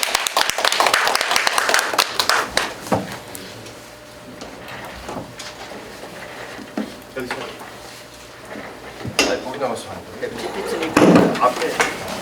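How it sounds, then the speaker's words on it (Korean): Audience at a policy discussion forum gives a short burst of applause, fading into quieter room noise with shuffling and handling sounds, then a few more claps and clatter near the end. "큰 박수로 모시겠습니다"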